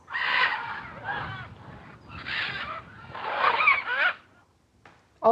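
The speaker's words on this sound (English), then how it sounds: "and some hungry macaws" Hungry macaws calling from the forest, a run of harsh, raucous squawks in several bursts of close, loud calls with short gaps, then a brief pause before one last sharp call.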